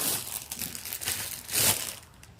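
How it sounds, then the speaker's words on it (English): Soft crinkling and rustling of a bag holding yarn, handled in several short bursts close by, with a louder crumple partway through and no talk. "Sorry about the rustling."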